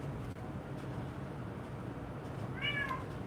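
A cat meows once, a short harmonic call near the end, in a basement during a tank-painting session with a steady low hum underneath.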